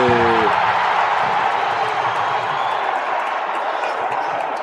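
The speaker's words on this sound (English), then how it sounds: "And the crowd goes wild." A basketball arena crowd at a men's playoff game roars in steady, loud disapproval after a referee's call, a sustained wash of voices and cheers with a brief voice at the start.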